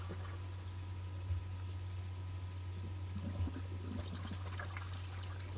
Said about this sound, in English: This is filling up now, blasting the water.